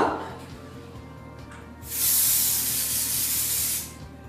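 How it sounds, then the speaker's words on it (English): Hairspray hissing from an aerosol can onto a man's hair, a steady bright spray of about two seconds, close and loud over a low background hum. "Now we're going to finish off with some hairspray."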